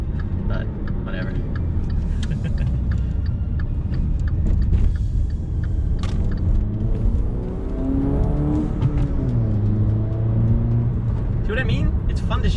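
A Dodge Dart driving at close range, its engine revving up and dropping back through several gear shifts, under steady road rumble with a voice talking over part of it.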